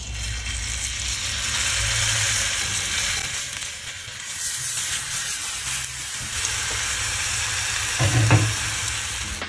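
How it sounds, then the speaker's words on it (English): Tuna steaks seasoned with everything bagel seasoning searing on a hot cast iron pan, a steady close, bright sizzle and hiss that holds throughout with a few louder spits, no talking. "Then you're going to rip these on a hot cast iron."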